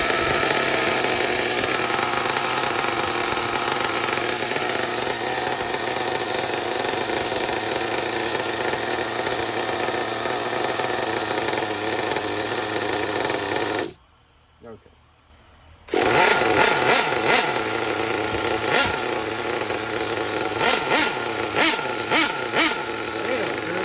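A loud, high-pitched nitro RC car engine (Traxxas Revo with an LRP Big Block 2 engine) screams steadily, cuts out briefly, then roars back with sharp revving bursts.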